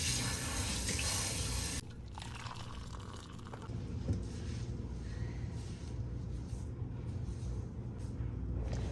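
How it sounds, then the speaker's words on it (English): Water runs and splashes steadily as shampoo is rinsed out of a child's natural hair, with a softer, uneven flow after the first couple of seconds and no speech. "I also allowed the shampoo to sit in her hair for a few minutes before I rinsed it out"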